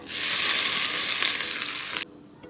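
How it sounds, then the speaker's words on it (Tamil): Hot tempering of curry leaves poured over a mint and coriander dish gives a loud, sustained sizzle for about two seconds that cuts off abruptly, leaving quiet kitchen noise. "இப்போ ஸ்டவ் ஆஃப் பண்ணிட்டு தாளித்து ஊற்றிடுறேன்"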